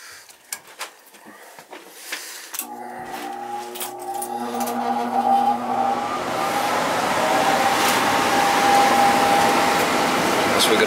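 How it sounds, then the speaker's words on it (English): A home furnace's blower fan kicks on, its hum beginning after a few clicks and building to a steady whooshing drone that grows louder and holds for several seconds. "The fan came right on."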